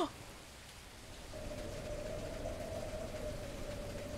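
Steady rain falls in the Meat video game, a constant hiss that gets louder partway through and continues with a faint tone over it.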